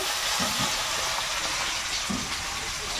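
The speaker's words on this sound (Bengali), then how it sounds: "পেঁয়াজ কুচিটা দিয়ে দেবো পেঁয়াজটা একটু হালকা ভেজে নেব" Chopped onions frying lightly in a pan with bay leaf, a steady broadband hiss of sizzling oil filling the background, with a couple of soft low knocks and no talk.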